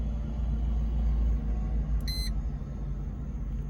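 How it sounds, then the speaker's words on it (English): A Mercedes E-Class engine idles with a steady low rumble, and a short electronic chime from the dashboard sounds partway through. "Alright, so I turn the car on."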